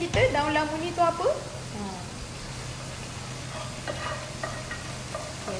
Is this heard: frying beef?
yes